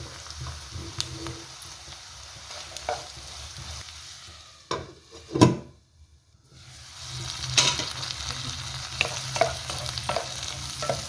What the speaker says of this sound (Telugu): మనం తాలింపులో వేసుకున్న ముక్కలన్నీ ఫ్రై అయ్యాయి కదా